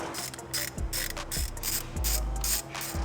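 A ratchet wrench works a 10 mm bolt on a BMW E60 M5, giving close, loud, rhythmic ratcheting clicks in quick bursts with short pauses between strokes.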